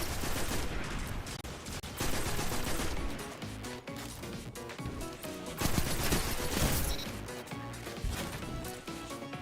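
Rapid automatic Werewolf rifle gunfire in the Destiny 2 Trials video game, dense bursts of shots running continuously over several seconds with steady loudness and no talk.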